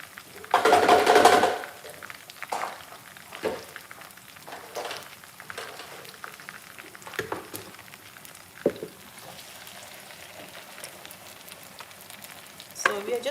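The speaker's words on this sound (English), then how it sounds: "So we are just going to be frying our tomato when our meatball are also fried" Tomato concentrate fries with meatballs in a pot. A loud sizzle bursts up at the start, then settles into a quieter crackle broken by intermittent stirring clatter.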